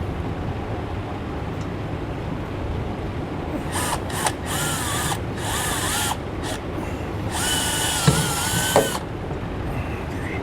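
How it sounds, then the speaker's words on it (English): A power drill whirs in several short bursts over steady background noise, drilling a pilot hole with a short bit, each burst rising in pitch as it spins up, the longest near the end. "we're going to use a short one to drill our pilot hole"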